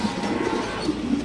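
Fancy pigeons at a pigeon farm coo repeatedly in soft, rounded bursts over a low background murmur, several birds close by and fairly loud.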